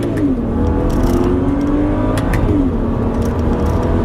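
A tuned 400 hp Dinan Stage 3 BMW 135i accelerates hard, its engine note sweeping up through the revs between quick gear changes. The sound is loud, close and continuous, with no talk over it.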